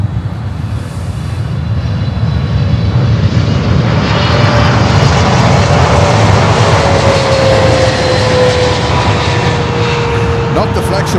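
An airliner's engines roar steadily at an airport, a loud broad rumble with a slowly falling whine sweeping across it as the aircraft passes near, continuous throughout.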